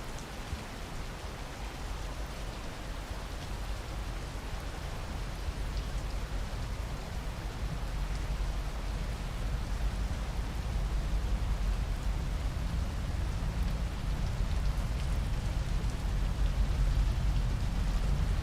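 Heavy rain pours down in the game Rain World, a dense hissing wash that swells steadily louder and deeper as the downpour builds, with no voices.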